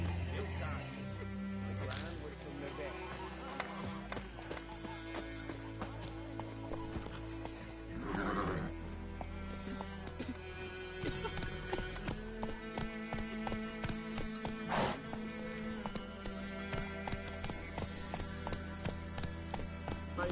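Roach, the horse from The Witcher 3, neighs and gallops in a fast, steady run of hoofbeats with loud whinnies breaking through, layered over music and game ambience while voices talk intermittently.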